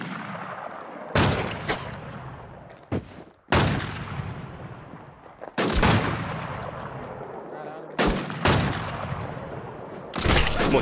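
Gunfire in the video game Infestation The New Z, including sniper rifle play: loud sharp shots and bursts cracking out at intervals, each followed by a decaying tail, with quieter background between volleys.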